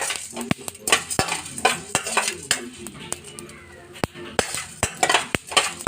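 Black peppercorns and spices fry in hot oil on low flame while a metal spoon stirs and scrapes the pan, giving repeated sharp clinks and taps over a soft sizzle, close up.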